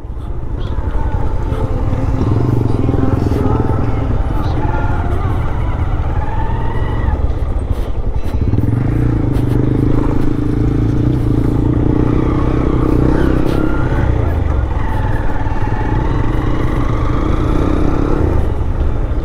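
A Honda motorcycle rides a rural road through sandy char land, its engine droning steadily and close for the whole stretch, with wind noise and a slight dip in pitch midway.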